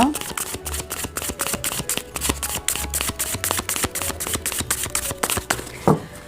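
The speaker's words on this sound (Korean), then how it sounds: "직업적인 부분과 금전적인 부분 카드 한번 뽑아 볼게요" Tarot cards being shuffled by hand, a rapid run of crisp riffling flicks and taps close up, ending in a final sharp clack as the deck is squared.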